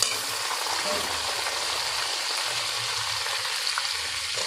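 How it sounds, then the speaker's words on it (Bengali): Four chopped green chillies fry in a pan with chopped ginger, a loud, steady hiss of hot oil sizzling throughout, close by with no voices. "হালকা ভেজে নেব এর মধ্যে চারটে কাঁচা লঙ্কা কুচি দিয়ে দিলাম"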